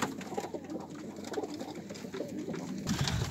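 Pigeons coo softly in a low, repeated burble, with light rustling and shuffling around them; no one speaks.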